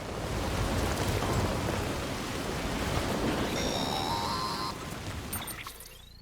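Steady timefall rain from the game Death Stranding pours down as dense, even hiss that fills the whole scene, with faint tonal electronic chimes rising in the middle before the downpour thins out at the end.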